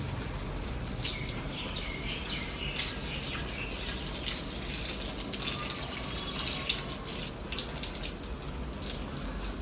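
Water pours and splashes steadily onto sun-dried garden plants, including bougainvillea and mint, a continuous close hiss of running water lasting throughout, with faint bird calls in the background.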